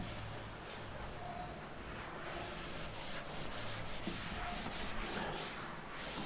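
A duster rubs writing off a classroom board during a maths lesson, a steady dry scraping swish that runs continuously for several seconds with no talk over it.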